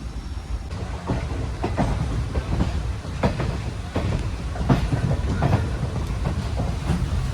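Heard aboard the Ernakulam to Velankanni train just after leaving Ernakulam: the train rolls along steadily, wheels clattering rhythmically over the rail joints beneath a continuous rumbling hum.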